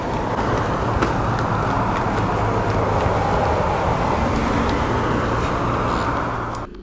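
A car passes near a property at night, a steady broad rumble of engine and tyre noise that holds at an even level throughout with no voices.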